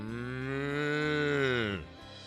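A cow in a paddock gives one long, clear moo that swells and then drops off sharply near the end, heard close and alone.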